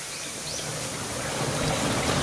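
Rushing water at Tarias Falls in Antipolo, a steady broadband roar of falling and flowing water that grows slightly louder as it goes, with no talking.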